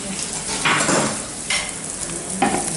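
Eggs beaten for an omelette with a utensil against a bowl during a home cheese-bread baking session, giving three scraping, whisking bursts over a steady background hiss.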